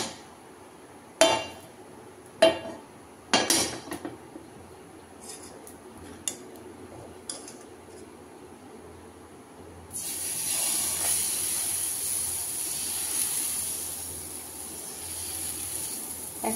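A few metallic clanks ring on a hot tawa griddle, then white oil poured onto it sets off a steady, close sizzling hiss that carries on to the end.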